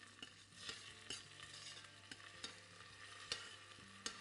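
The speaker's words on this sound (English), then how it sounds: "cook those around till the onions are clear" Onions and garlic being stirred in a pan, with soft scraping strokes at a steady rhythm over a low, quiet sizzle, close by and without talk.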